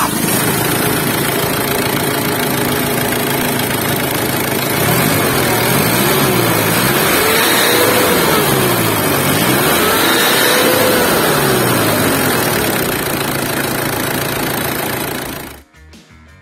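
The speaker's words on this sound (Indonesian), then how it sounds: "kita pengen dengar dulu suara mesin 2500 cc turbo diesel intercooler kayak apa" First-generation Ford Everest 4x4 with a 2500 cc turbo diesel intercooler engine, not common rail, running a steady, loud, close diesel idle with a slight rise and fall in pitch for a while before cutting off abruptly.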